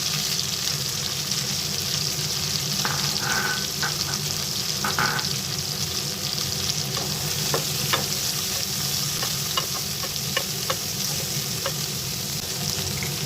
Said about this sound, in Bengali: গ্যাসের ফ্লেমটা একটু জোরেই রেখেছি পেঁয়াজটা লাল করার জন্য